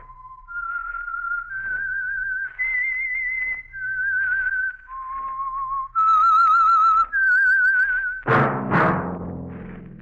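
A lone whistler carries the signature tune of The Whistler radio program, a clear melodic line of sustained notes rising and falling, closing with a low musical thud and resonant sting.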